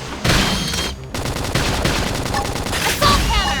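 Gunfire in the video game Xenoblade Chronicles X during combat, dense rapid bursts of shots layered with game effects, loud and continuous throughout.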